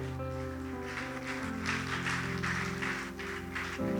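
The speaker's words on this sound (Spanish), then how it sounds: "Denle un fuerte aplauso al Señor" A church congregation applauding the Lord, with faint rhythmic clapping over sustained music tones, quiet and distant.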